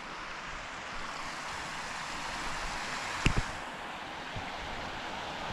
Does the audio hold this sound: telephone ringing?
no